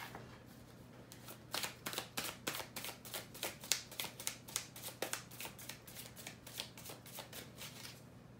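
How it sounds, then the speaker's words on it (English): Tarot cards being shuffled by hand, close and fairly quiet: a quick run of about twenty crisp riffling bursts in a steady rhythm against a low background hum. "I'm going to put all these cards back and get a shuffle"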